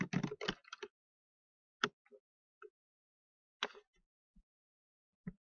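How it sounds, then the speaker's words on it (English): Faint typing on a computer keyboard in a quiet room: a quick cluster of key taps at the start, then a few isolated clicks spaced out over several seconds. "just typing in a title."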